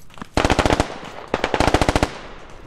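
Bursts of automatic gunfire in the military shooter game Squad come as two loud, rapid strings of sharp cracks, each lasting roughly half a second to a second, separated by a short pause.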